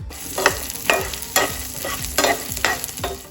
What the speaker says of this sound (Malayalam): ഇനി ഇതിലേക്ക് ഒരു തണ്ട് കറിവേപ്പിലയും കൂടിയിട്ട് ഒന്നുകൂടെ ഒന്ന് വഴറ്റിയെടുക്കണം.